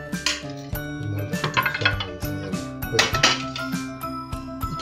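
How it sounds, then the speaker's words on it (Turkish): A knife chops garlic cloves on a cutting board while ingredients are prepared for a chicken steak with mushroom sauce; quick, uneven clicking taps and light clinks follow one another close by. "Şöyle iki diş sarımsak doğrayacağız."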